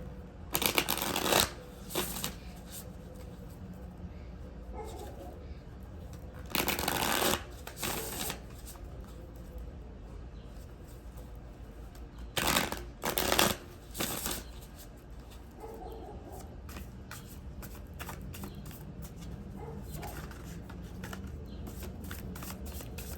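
Cards being shuffled over and over, crisp riffling bursts recurring every few seconds, with softer handling rustles between them, close up and with no talking.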